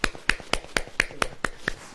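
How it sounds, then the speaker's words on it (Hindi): Sharp hand claps at a church sermon, about eight evenly spaced crisp claps in a steady rhythm, close and alone with no talk over them. "ऐसे ताली देखिए ऐसे बजती है"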